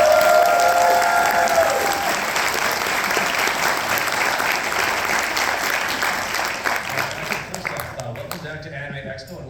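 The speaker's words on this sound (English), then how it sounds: "can we get one more big round of applause for our" A large crowd at an Anime Expo concert of Evangelion music claps in a loud, sustained burst of applause. A voice speaks over it near the start, and the clapping trails off into scattered claps at the end.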